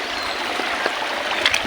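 Water leaks and trickles through a rice paddy bank in Bohol, Philippines, a soft, steady flowing and gurgling heard close by for a brief moment with small splashes near the end.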